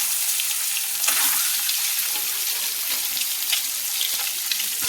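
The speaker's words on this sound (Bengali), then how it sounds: "এইদিকে একটা কড়াইতে আমি কিন্তু ম্যারিনেট করা ডিমগুলো ভেজে নিচ্ছি।" Hard-boiled eggs marinated in salt and turmeric fry in hot oil in a kadai, making a constant, dense hiss and sizzle close up with faint crackles, heard alone without speech.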